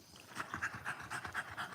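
A big puppy dog pants in a steady, quick rhythm of short breaths, close and fairly quiet, with no other sound around it.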